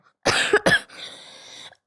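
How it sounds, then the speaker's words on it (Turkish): A child with an eight-year chronic cough lets out two sharp, loud coughs in quick succession, followed by a softer, raspy breathy trailing sound, close to the microphone. "Böyle normal yaşamamı etkiliyor bu öksürük."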